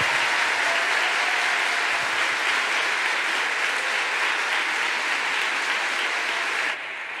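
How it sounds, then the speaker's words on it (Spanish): An audience applauds at a children's graduation ceremony. The clapping is dense and continuous for about seven seconds, then drops off slightly at the end. "voy a pedir otro fuerte aplauso de lo bien que lo habéis hecho."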